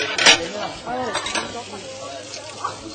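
Dishes are washed at lunchtime with close clinks and scrapes of plates and cutlery that cluster early and then thin out, while voices talk over the clatter.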